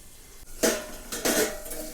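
Two bright metallic clinks ring out about half a second apart as a lid is set onto a pan of tomatoes cooking in oil, with a faint kitchen hum in the background.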